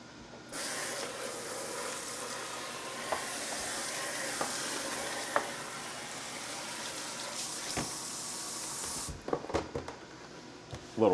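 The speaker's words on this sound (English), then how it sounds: "And we always give a quick rinse." Water sprays steadily from a kitchen sprayer during a quick rinse while cleaning up after making Krafty tuna, a continuous close hiss that stops near the end, followed by a few clattering handling sounds.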